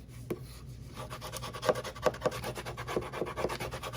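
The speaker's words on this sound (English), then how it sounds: "Burnish in between your hinges on the gussets." Paper album hinges and gussets being burnished, heard as repeated dry rubbing and scraping strokes in an irregular rhythm, close and moderately quiet, with no talking.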